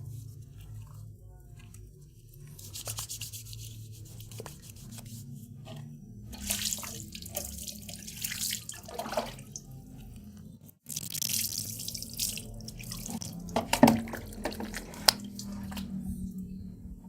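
Water in a tub splashes and trickles softly up close in irregular bursts, with faint drips and squishy movements, quiet throughout.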